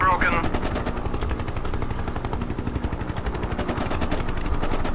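A Hind attack helicopter fires its cannon in a flight game, a rapid, continuous stream of shots over the steady rotor drone, with a brief beep at the start.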